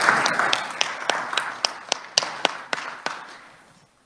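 A round of applause at the Capitol, with a modest crowd clapping in sharp, distinct claps over a softer patter that fades out over a few seconds.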